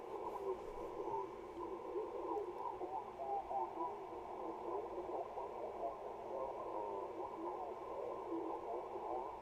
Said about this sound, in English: You're hearing step sweeps.